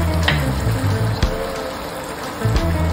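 Asafoetida sizzling in hot oil with chillies for a raw mango pickle, a steady close frying hiss with soft bubbling and a few sharp crackles.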